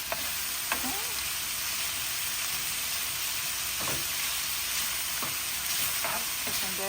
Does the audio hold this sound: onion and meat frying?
yes